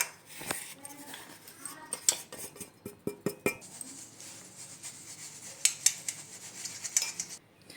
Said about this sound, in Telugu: ఇలా మిక్సీ చేసుకున్న మరమరాల పౌడర్ని కూడా చల్లించుకోవాలి